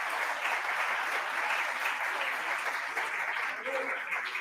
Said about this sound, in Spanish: Pido por favor un aplauso para don Juan.